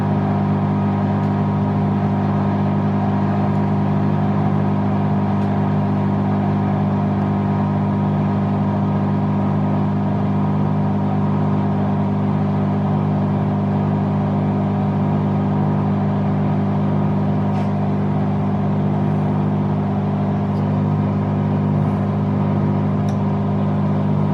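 A Bosch Exxcel 1400 washing machine spins on a woollens 30°C wash, giving a steady, loud motor hum with a constant low drone and whir that holds throughout with no talking.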